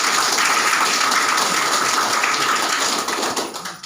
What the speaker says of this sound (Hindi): एक बार अपने के लिए जोरदार ताली